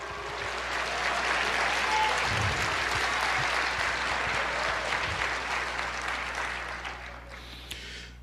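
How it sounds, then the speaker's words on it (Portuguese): Congregation applauding in a church service, a dense sustained wash of clapping from many hands that swells and then slowly thins toward the end, with a few low bumps beneath. "Aplauda o Senhor, glorifique."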